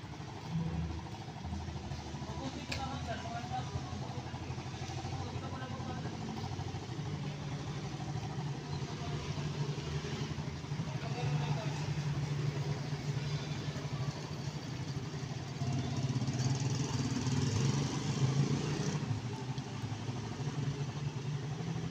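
Motorcycle engine running steadily in a subdivision street, a continuous low mid-pitched drone with a slight rise in revs toward the end, close and even throughout, no talk over it.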